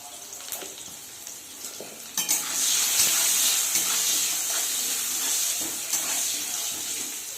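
Potatoes with turmeric sizzle in a pan for a vegetarian ghugni, a steady bright hiss of frying that swells after a couple of seconds and holds, with a few faint clinks at the start.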